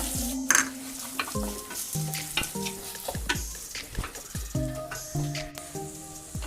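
Onions sizzle and fry steadily in a pan while a utensil stirs and scrapes against it repeatedly, with no talking.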